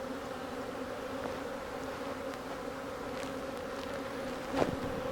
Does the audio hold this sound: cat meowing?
no